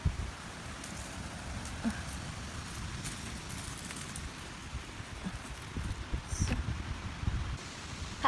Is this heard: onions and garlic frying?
no